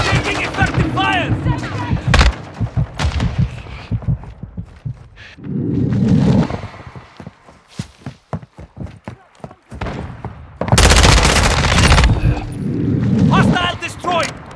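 Gunfire in a Call of Duty Modern Warfare 2 team deathmatch on a hydroelectric map, with sharp close shots and bursts scattered throughout, mixed with heavy booming impacts and shouted voices.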